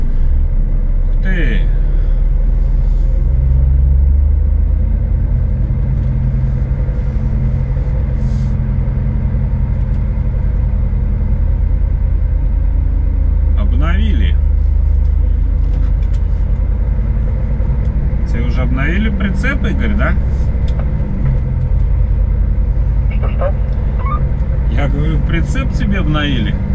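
A Scania truck drives along the road to Moscow, its engine a steady, loud low rumble throughout, with scattered rattles and bumps from the cab and people talking over it at intervals.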